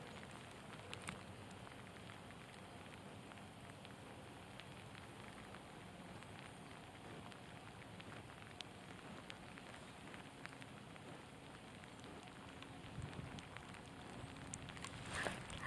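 Quiet, steady rain patters on water with soft crackling drops, continuous and fairly faint throughout.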